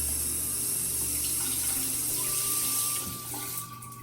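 Water gushes steadily from a shower head being tested for low water pressure, a broad hiss that runs for several seconds before tapering off as the flow is shut down, with a faint squeak of the valve near the end.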